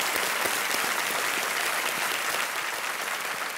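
Studio audience applause at a Kaun Banega Crorepati Season 6 taping welcoming a contestant's family, a steady, dense clapping that fills the clip evenly and stays loud throughout without voices.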